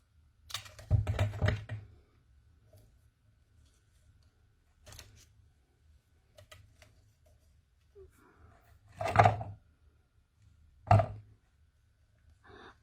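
Scissors cut a sheet of paper into two pieces in a quiet room, with a few short crisp snipping and rustling bursts separated by near silence.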